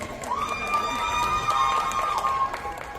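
Applause and cheering from an audience at a watch launch event, with a crowd clapping steadily while a sustained whistle-like tone rings over it and voices shout within the clapping.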